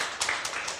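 A church congregation at a Wednesday prayer and testimony meeting clapping hands together, a short burst of a few quick, moderately loud claps.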